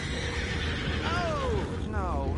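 A horse in the Red Dead Redemption 2 video game lets out a loud, wavering whinny over steady background game noise. A second, shorter neigh follows near the end.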